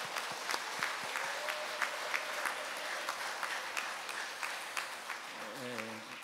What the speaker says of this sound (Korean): 우리 참평교회 성도님들을 위해서 박수 한번 보내주시죠